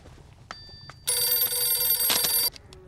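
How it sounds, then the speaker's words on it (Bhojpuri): A telephone bell rings loudly and close for about a second and a half, then cuts off abruptly, with faint noises before it. "फोन बजता।"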